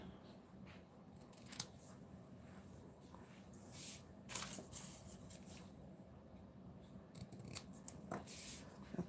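Quiet scissor snips cut through card, a handful of sharp crisp clicks spaced irregularly over a soft background hiss.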